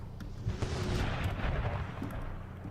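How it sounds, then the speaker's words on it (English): Cannon artillery fire in a Napoleon: Total War multiplayer battle, a dense rumble of overlapping booms and muffled blasts, some near and some distant, rolling continuously across the battlefield. "my cannons can't withstand all of their fire from all these cannons"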